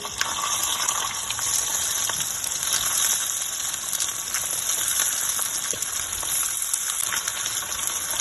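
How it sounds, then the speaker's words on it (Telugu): Curry leaves, chillies and sesame seeds fry in oil over a high flame, a loud, steady, close sizzle that carries on without a break and without talk. "ఇవి బాగా ఫ్రై చేయాలి హై ఫ్లేమ్లో ఫ్రై చేయాలి"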